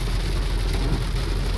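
Heavy rain drums on a moving car in a dense, loud wash over a low engine rumble, with no voices, during a short burst.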